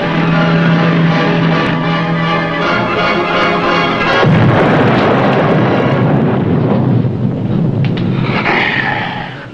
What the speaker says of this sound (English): Rig for depth charge.